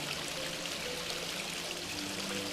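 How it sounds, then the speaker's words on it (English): Water runs steadily across the scupper of an outdoor fire pit, flushing out debris. The pour is constant and close, with no voices. "You can't really do this without the water running because a lot of that debris will be up underneath the scupper"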